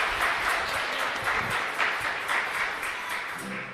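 Congregation applauding inside a church after Mass at a parish, a steady wash of many hands clapping that holds fairly even throughout, with no talk over it.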